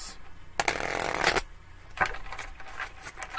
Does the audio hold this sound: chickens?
no